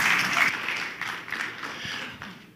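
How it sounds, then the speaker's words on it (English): A church congregation applauds, its clapping dense and steady at first and then thinning and fading over a couple of seconds. "Let's give them another round of applause."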